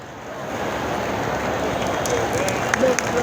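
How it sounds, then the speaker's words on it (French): An audience at a formal ceremony applauds Babacar Ndiaye with steady, continuous clapping, a broad wash of sound that holds throughout, with faint voices mixed in. "Je vous demande de l'applaudir."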